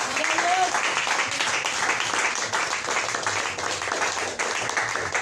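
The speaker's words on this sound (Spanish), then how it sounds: "Aplauda, hermano." Loud, sustained clapping from a church congregation during an evangelical sermon, with voices mixed into the dense applause throughout.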